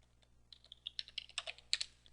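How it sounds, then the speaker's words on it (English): A password is typed on a computer keyboard in a quiet room: a quick, uneven burst of soft key clicks that grows slightly busier before stopping. "type in your password"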